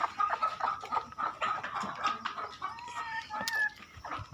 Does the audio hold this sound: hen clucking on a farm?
yes